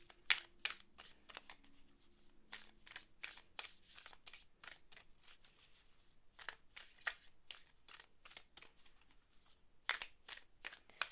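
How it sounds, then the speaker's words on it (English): Oracle cards being shuffled in quick, irregular bursts of riffling and snapping, close up with no voices. "this oracle deck that's getting shuffled so very chaotically by me"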